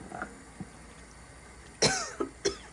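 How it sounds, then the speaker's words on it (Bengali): A person coughs after eating hilsa fish curry, a few sharp close coughs near the end after quiet throat sounds, with no talk. "কাশি আসে কেন ইলিশ মাছ খেয়ে?"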